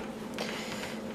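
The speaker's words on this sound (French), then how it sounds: "utiliser le fouet électrique pour battre tout ça" An electric whisk beats crepe batter in a bowl, giving a steady close motor whine with a constant hum and faint rattling scrapes.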